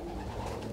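Racing pigeons coo softly in a loft, a low, murmuring warble held under a steady background hum.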